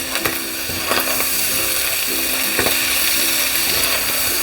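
Chicken gizzards and liver frying in a pan, a steady loud sizzle with intermittent stirring clinks and scrapes against the pan throughout.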